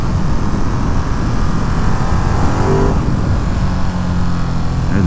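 A new Ducati Monster motorcycle pulls hard in third gear on winding country roads, a loud close engine drone rising steadily in pitch with heavy wind rush and no talk.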